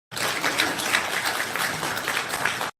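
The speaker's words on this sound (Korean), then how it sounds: "수고하신 김홍근 의원님께 박수 부탁드리겠습니다." Forum audience at an environmental conservation event applauding a council member, a dense, steady burst of many hands clapping close and fairly loud, beginning and ending abruptly.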